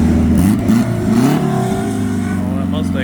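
Ford Mustang engine revving hard and accelerating at a Cars & Coffee car meet, a loud, sustained mid-pitched roar with rising pitch sweeps, close by, with voices talking over it.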